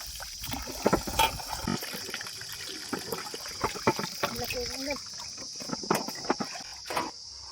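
Soaked raw green mangoes washed by hand in water outdoors in a village, irregular splashes and sloshes close by, with a person talking and a steady insect drone behind.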